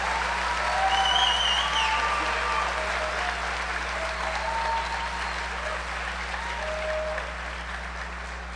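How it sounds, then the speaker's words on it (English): A large audience at a senior recognition ceremony applauds the graduating Criminal Justice Class of 2018, sustained, even clapping from a big hall crowd with a steady low hum underneath and faint voices mixed in. "Would you please give a round of applause for the Criminal Justice Class of 2018"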